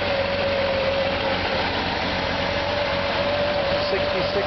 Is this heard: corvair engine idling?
yes